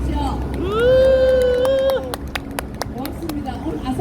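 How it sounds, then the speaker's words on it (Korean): A crowd at an evening cultural rally welcomes contract workers from Asahi Glass in Gumi: one long, rising cheer rings out over a murmuring crowd, then scattered claps and voices follow. "큰 박수로 환영해 주십시오."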